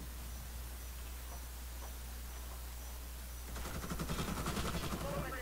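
Rapid gunfire from a CrossFire first-person shooter match: a faint, steady low hum, then a dense burst of quick shots crackling in the last couple of seconds.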